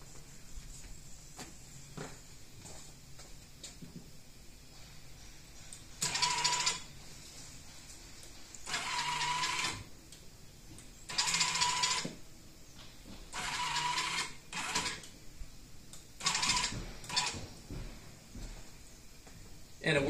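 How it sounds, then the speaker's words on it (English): A trolling motor driving a Power Wheels gearbox steering mechanism runs in repeated whirring bursts of about a second or two each, separated by pauses, with occasional clicks and a quiet voice in the background. "I'm going to go ahead and test the steering function for you"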